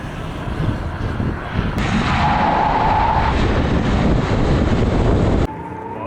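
A 2022 Chevrolet Silverado LTZ Z71 pickup with a Duramax inline-six diesel launches hard from a brake boost, sending up a loud, sustained engine roar that climbs steadily and then drops off abruptly near the end.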